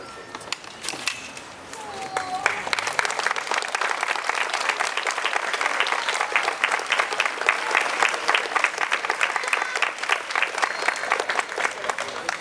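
Sustained applause from an audience at a school presentation ceremony for a special-needs school in Poland, steady dense clapping building after a brief start and continuing loudly throughout.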